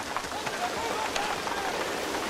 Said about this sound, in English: Get it out of the rain, Mr. Knox.